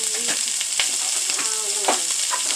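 Onion sautéing in a hot pan for a Chinese-style vegetable curry, a loud continuous sizzle broken by spatula scrapes and stirring clicks, close up with no voices.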